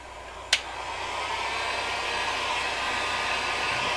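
A heat gun blows steadily on a custom RC battery pack for a TopRC L-39 Albatross, a continuous loud airy roar after a brief click at switch-on, with no talking.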